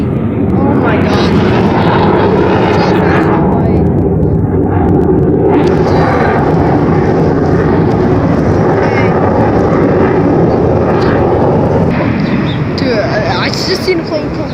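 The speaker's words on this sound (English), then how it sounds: "I just seen a plane come so near, and I'm like, oh my god, that plane was loud" A Blue Angels jet roars loudly over an air show, its engine noise rising and swelling as it passes close overhead, with excited voices of spectators talking over it.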